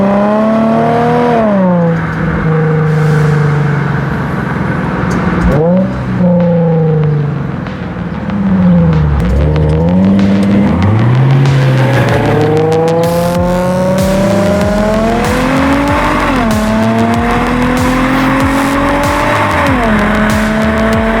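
A C5 Corvette sports car drives past on the road, its engine note climbing and falling repeatedly as it revs and shifts, loud and close throughout.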